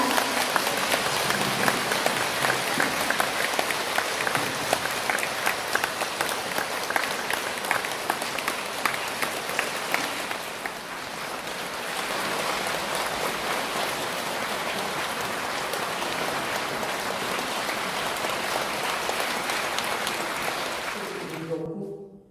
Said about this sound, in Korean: 큰 박수로 법사님을 모시겠습니다